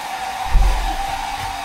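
A blow dryer runs steadily to dry a dog after its bath, a constant whirring hum with a brief low thump partway through.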